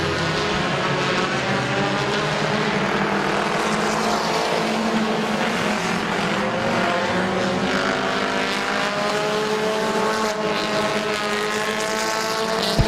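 Compact race cars roar around Midvale Speedway in a dense, loud, continuous engine drone, several motors layered with shifting pitch throughout.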